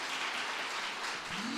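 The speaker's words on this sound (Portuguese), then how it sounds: "Pode dar uma salva de palmas" A church congregation applauds, a continuous wash of many hands clapping at a distance, fairly quiet and steady for under two seconds.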